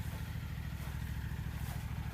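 Engine of a John Deere X724 four-wheel-steer lawn tractor idling in a freshly cut field, a faint, steady low chugging putter heard from a distance with no talk.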